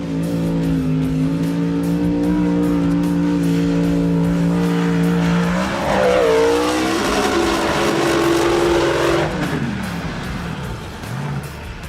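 A loud monster truck engine drones steadily, then revs and roars higher for several seconds before settling back down.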